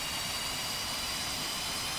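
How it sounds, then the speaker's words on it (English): Continuous whining roar of an F-5E jet engine spooling up during startup in the DCS flight simulator, a steady broadband rush with high tonal whine, even and moderately loud throughout. "And now you can hear that the engine is starting up."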